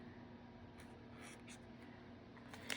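A pen writing a number into a debt binder, with quiet scratchy strokes in short bursts over a faint room hum, close by and no voices.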